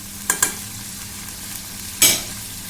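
Pomfret fish curry spices, with chili paste, being stirred and fried in oil: a steady close sizzle broken by a quick pair of spatula scrapes early on and one louder scrape near the end.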